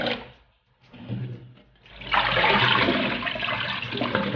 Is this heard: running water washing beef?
yes